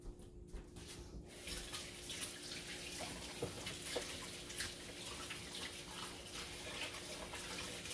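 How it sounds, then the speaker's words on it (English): A tap runs steadily while hands are washed beneath it, the water splashing and trickling at moderate distance against a faint background hum. "let me wash my hands off"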